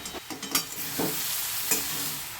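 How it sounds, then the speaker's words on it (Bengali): Fried fish head pieces are stirred into cooking cabbage in a pan, with a short run of utensil scrapes and clacks over a steady sizzle. "এই পর্যায়ে আমি মাছের ভাজা মাথার টুকরোগুলো দিয়ে দিচ্ছি দিয়ে এটাকে ভালো করে নেড়ে চেড়ে পাঁচ মিনিট রান্না করব"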